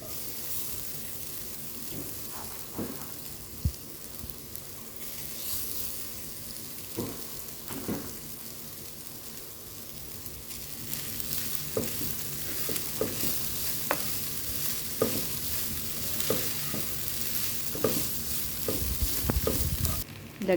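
Cooked rice stir-fried in a pan for java rice, a soft steady sizzle with repeated scraping and tapping of the spatula against the pan, fairly quiet.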